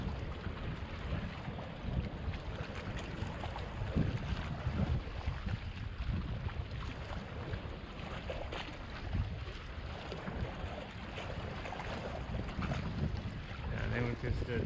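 Steady wind roars across an open coastal shore during land-based fishing for mulloway, a broad continuous rush with gusty swells that stays loud and unbroken throughout.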